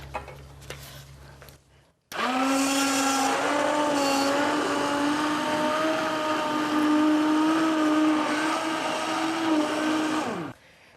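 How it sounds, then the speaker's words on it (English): A blender purees pumpkin soup in a long, loud, steady whir lasting about eight seconds, starting abruptly after a quiet moment and cutting off sharply at the end. "we're just going to get the soup and blend it"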